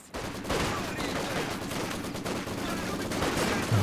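A Maxim machine gun in the Company of Heroes 2 battlefield lets off dense, sustained automatic fire. It is loud and continuous, mixed with other battle noise and faint voices.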